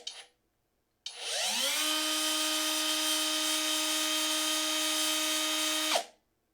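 A Parkside Performance 12V brushless cordless angle grinder spins up with a rising whine and holds a steady, high, tonal scream at one speed for about five seconds. It then stops abruptly as the electronic brake engages.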